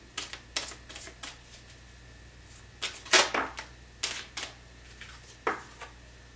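A tarot card drawn from the deck, heard as a series of close, crisp flicks, snaps and rustles of card stock in quick irregular bursts, with no talking.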